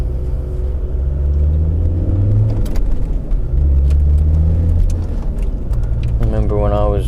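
Saturday road traffic near a KFC: cars rumble past in a steady, loud wash of engine and tyre noise, with swells as vehicles go by and a brief voice near the end.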